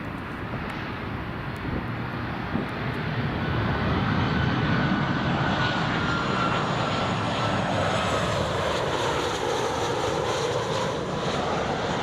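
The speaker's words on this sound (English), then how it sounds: "here comes the 737-800" A Boeing 737-800 lands at Newcastle International Airport, its engines a loud, steady roar that swells slightly mid-pass and holds broad and continuous throughout, with no voices over it.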